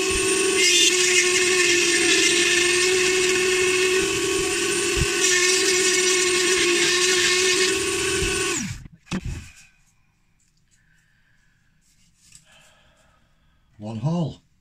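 A loud, high-pitched power drill whines steadily for several seconds, then winds down and stops; brief clatter and a short whir follow.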